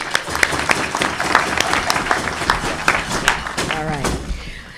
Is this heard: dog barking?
no